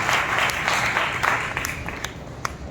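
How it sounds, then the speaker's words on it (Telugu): A church congregation claps together in praise, a dense, sustained patter of many hands at close range, with a few sharper individual claps standing out as it thins slightly. "చప్పట్లు కొట్టి మనమందరం దేవుని స్తుతిస్తాం."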